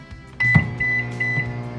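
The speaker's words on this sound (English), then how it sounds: "I'm gonna pop my rice into the microwave." Microwave oven heating rice, a steady close electric hum starting after a faint click, with a thin whining tone riding over the drone throughout.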